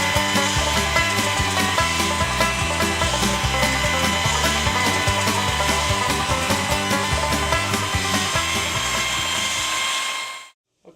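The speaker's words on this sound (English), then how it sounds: "we finished sanding our epoxy and our top side of our mantle again" Power sanding of a mesquite wood mantle whose cracks are filled with hard-cured epoxy, a steady loud abrasive whir with rhythmic scraping strokes running continuously for about ten seconds before stopping abruptly.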